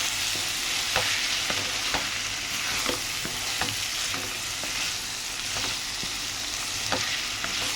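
A curry frying and cooking down in a pan, a loud steady sizzle broken by repeated sharp scraping stirs at irregular intervals, no talking.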